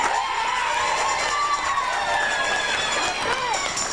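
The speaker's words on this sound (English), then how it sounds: "give a round of applause, very warm welcome to the Great Thomandini" A talent show audience cheers and applauds a performer's welcome, with dense crowd noise, shouts and whistles holding steady throughout.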